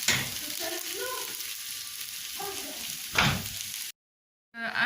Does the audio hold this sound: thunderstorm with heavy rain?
no